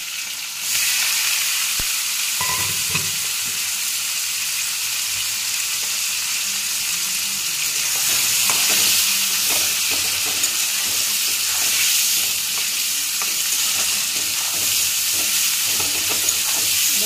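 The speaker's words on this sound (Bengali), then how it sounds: "পেঁয়াজটা একটু লাল লাল করে ভেজে তারপরে অন্যগুলো দেবো।" Chopped onions fry in a pan with cinnamon and cloves for a red chicken curry, a steady close sizzle with occasional stirring scrapes throughout, no talking.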